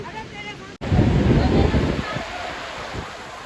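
Rushing water roars steadily close by after a landslide at Bhairo Baba, with broadband noise and wind buffeting the microphone after a brief dropout near the start.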